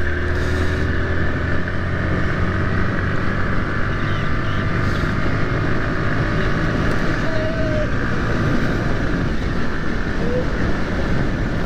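A motorbike on a Sunday morning ride through town drones continuously and loudly, with a steady engine hum and strong wind and road rumble. No voices can be heard over it.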